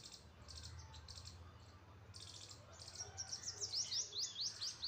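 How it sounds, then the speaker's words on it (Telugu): Village morning birdsong: soft clustered twitters at first, then a rapid series of clear rising chirps building toward the end, over a faint steady background hum of insects. "చూడండి పక్షులు ఎలా అరుస్తున్నాయో."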